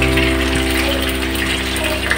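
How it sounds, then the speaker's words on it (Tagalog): Water boils in a pot on an electric cooker, a loud, continuous rushing bubble that holds steady throughout, with no voices over it. "Kumukulo na siya."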